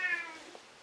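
A single short cat meow, fairly faint and close, fading quickly into quiet.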